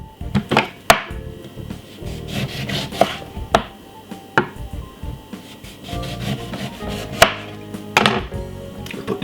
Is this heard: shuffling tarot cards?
no